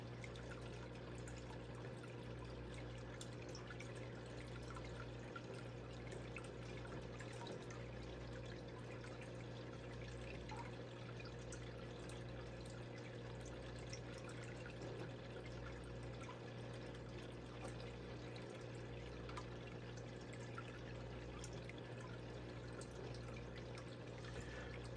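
Water from Bering Sea gold dredge paydirt runs continuously through a sluice, a quiet, steady trickling wash with a low pump-like hum beneath it throughout.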